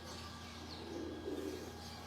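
A teddy pigeon coos steadily, with soft repeated low coos over a continuous hum in a pigeon breeder's loft.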